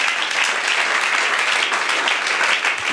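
A church congregation claps together in praise of God, a dense, steady roar of many hands applauding without pause.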